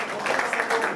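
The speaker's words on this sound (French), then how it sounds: "Est-ce qu'on peut applaudir pour papa?" Applause for an elderly father at a Bosolo anniversary press conference and bracelet ceremony, a brief burst of crowd clapping with some voices mixed in.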